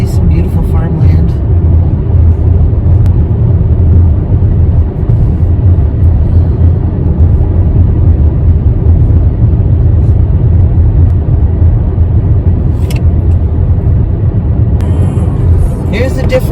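A car driving along a highway near Hamilton, a loud, steady low engine and road rumble filling the whole stretch from inside the cabin.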